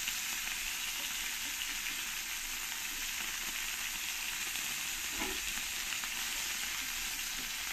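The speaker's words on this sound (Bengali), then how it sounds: "এই মাছ ভাজতে গেলে তেলটা খুব ছিটকায়, খুব সাবধানেই ভাজতে হবে।" Pakal (eel) fish fries in spattering oil, a loud, continuous, hissing sizzle heard close up that stays even throughout, with a brief stir or spit midway. No talking is heard.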